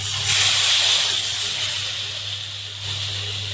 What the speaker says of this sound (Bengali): এবার তেঁতুল জল দিয়ে দিচ্ছি।